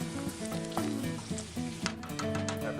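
Fat rendering in a pot for a gumbo roux, giving a steady crackling sizzle with occasional sharper pops and stirring scrapes, close and continuous with no talk.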